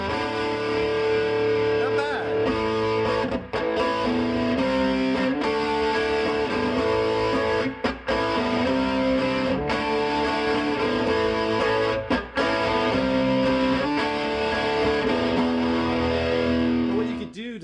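Distorted electric guitar, a mid-1990s Gibson Les Paul Standard Special Edition through a Randall RG 80 solid-state amp, plays continuously in a dense, loud sustained tone with brief gaps between chords.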